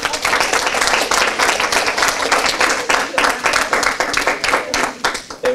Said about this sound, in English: let us just give a clap to Jacob, David, and Esther.